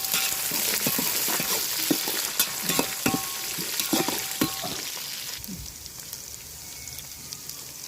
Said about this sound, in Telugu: అలానే ఒక 6-7 పచ్చిమిరపకాయలు కట్ చేసి వేస్తున్నాను. ఒకసారి కలుపుతున్నాను.